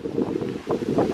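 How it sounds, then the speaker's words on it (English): Steady wind buffets the microphone with a low, continuous rumble near a beach in Mui Ne, Vietnam, gusting slightly stronger toward the end; no voices. "I'm not able to hear me that well because it's quite windy"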